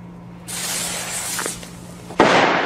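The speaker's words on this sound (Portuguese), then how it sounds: "Porque tem feriado e porque tem as bombinhas, pra nós estourar as bombinhas." A small firecracker, or bombinha, is set off during a Brazilian holiday festivity. It gives a sharp hiss followed by a loud burst, and a steady noisy crackle runs through the clip with no speech.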